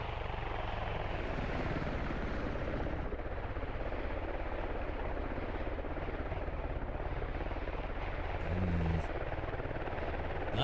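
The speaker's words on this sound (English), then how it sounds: "That's the helicopter running real low there." A helicopter flies low in the military shooter game Squad, a steady, dense rotor and engine roar filling the whole stretch at constant loudness, with no break.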